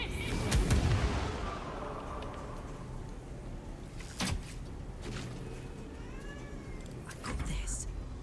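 A kitten meows faintly, a few thin rising calls under a person talking, with sharp explosive bangs from a game scattered through the background.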